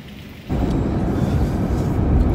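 Heavy rain pouring with a deep thunder-like rumble that begins suddenly and stays loud and continuous, near and dense, with no talk.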